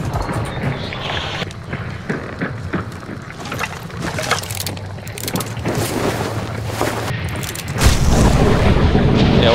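Grenade blast in the game Hunt: Showdown, a booming burst that follows scattered clatter and distant crackles, then a sustained loud roar of debris and rumble near the end.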